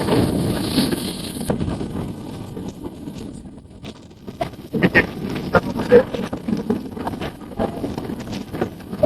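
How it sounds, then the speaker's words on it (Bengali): Strong gusts of wind blowing dust outdoors beside rising tidal water roar across the microphone in uneven surges, loud at first, dipping briefly, then buffeting again with sharp bumps. "প্রচুর বাতাস, প্রচুর বাতাস। প্রচুর ধুলো, বাতাস তো প্রচুর ধুলাবালি।"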